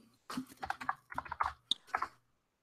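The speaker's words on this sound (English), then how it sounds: "it's not showing what I'm typing in." Keys clatter on a computer keyboard during a chat, a quick close run of soft clicks with brief pauses between groups, fairly quiet against a silent room.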